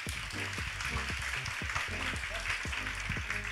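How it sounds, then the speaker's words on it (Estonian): An audience at a live podcast recording at an opinion festival claps in a dense, steady round of applause, with a voice talking over it throughout. "Teeme aplausi, palun veel."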